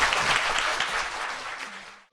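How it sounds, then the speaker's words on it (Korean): Studio audience applause closing a talk-show segment, a dense burst of clapping that holds steady and then fades out abruptly at the end. "박수 부탁드립니다."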